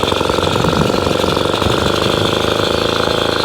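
Atco Midget lawnmower with a Villers engine running under throttle, a loud, close, rapid steady putter with a fast even rhythm that continues throughout.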